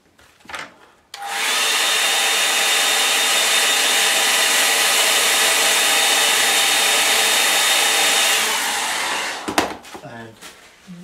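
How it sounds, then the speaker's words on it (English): A hair dryer blows steadily and loudly for about eight seconds, drying something off, then cuts out. Brief handling noises come before and after the airflow. "I'll dry it off."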